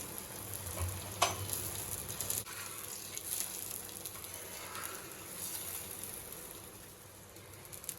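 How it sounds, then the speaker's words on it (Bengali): An aloo paratha frying in a little oil on a tawa gives a soft, continuous sizzle at close range, with a brief clink early on and a low steady hum underneath. "তেলটা গরম হয়ে এলে আমি পরোটাটা আস্তে করে দিয়ে দেব"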